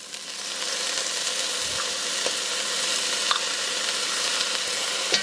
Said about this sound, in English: Now we're going to add 4 teaspoons of minced garlic.